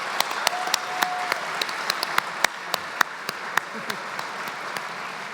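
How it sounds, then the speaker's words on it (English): Applause from a gathered audience at a youth awards event, with sharp individual claps standing out close by over a broader crowd clapping, and some voices mixed in. "Let's give him another round of applause."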